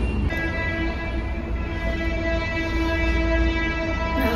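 A train horn sounds in a long, steady blast over the continuous rumble of a passing train in Bangalore, loud and close throughout.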